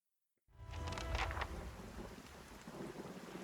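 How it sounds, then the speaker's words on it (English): Steady rain pours down in the video game Pillars of Eternity with a deep, rumbling roll of thunder at the start, the downpour continuing loud and even throughout. "Oh, and it's raining."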